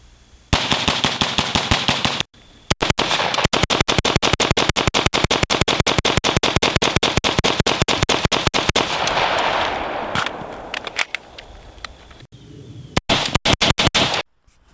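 Head Down Provectus PV-15 rifle, a 16-inch carbine-gas AR-style gun, fired at steel targets: long rapid strings of close, sharp shots in quick succession, a short pause, then another burst, with ringing decay and no talk.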